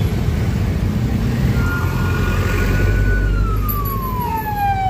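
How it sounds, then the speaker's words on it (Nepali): An ambulance siren passes on a city road in Kathmandu during a motorcycle ride, a wailing tone rising out of steady engine and traffic rumble, then sliding downward in pitch as it goes by. "ओइ एम्बुलेन्स आयो"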